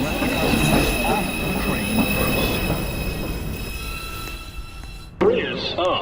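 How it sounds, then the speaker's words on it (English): A New York City subway 2 train, the uptown express, pulls into Beverly Road station at evening rush hour, wheels rumbling and squealing steadily along the rails before a sharp clank near the end. "Uptown Express 2 train approaching the station."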